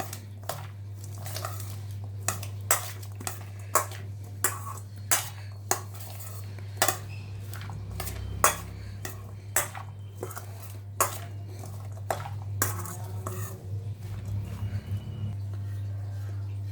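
A spoon mixes a corn and vegetable salad with chilli powder and salt in a bowl, giving a steady run of light clinks and scrapes over a low constant hum.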